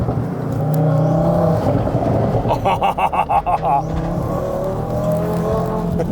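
A tuned Audi RS3 8V2 making over 700 horsepower drives along with a warm, rumbling engine drone. A short burst of rapid rattling pulses rises midway, and people talk over the noise.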